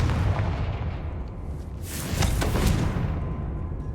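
A Confringo explosive spell blast in Hogwarts Legacy, a broad booming burst with a whooshing swell that rises and fades over a few seconds, loud and close.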